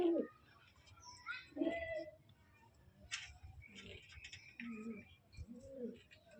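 Pigeons kept at home feeding on scattered rice, giving soft low coos and a few brief calls at moderate distance, with faint background chatter and light ticking noises.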